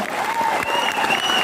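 Audience applause at a company promotional program in Guwahati, honoring the VP of marketing; dense, steady clapping fills the whole moment at close, loud level without a break.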